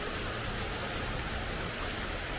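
Steady rain pours down outdoors by the water at Binh Quoi in Saigon during a fishing trip, a dense, even hiss that stays constant and fairly loud throughout, with no voices.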